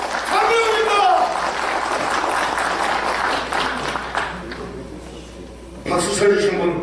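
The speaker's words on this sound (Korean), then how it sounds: "박수 쳐주신 분 감사합니다" A crowd applauds with dense, steady clapping that fades, then a brief burst of clapping returns near the end, at a taxi union election speech in Gwangju.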